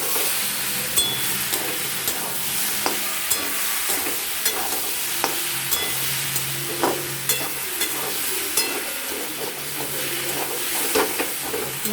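Masala with cumin and coriander powder stir-fried in a pan for a homestyle mixed vegetable ghyaant, with a steady close sizzle and the frequent scrape and clink of a spatula throughout, no voices.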